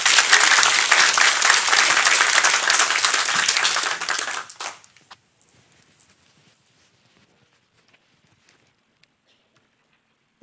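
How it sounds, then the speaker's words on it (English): Church congregation bursts into dense, loud applause during a Sunday morning service, many hands clapping for about four seconds before it quickly fades out into near silence. "Let's give these a round of applause this morning."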